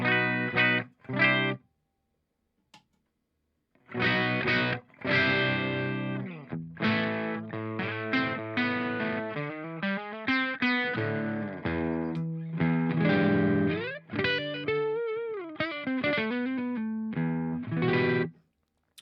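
Electric guitar through a Himmelstrutz Fetto Maximus overdrive pedal at low gain plays chords and melodic phrases with a warm, mildly gritty tone, starting after a brief pause and continuing steadily.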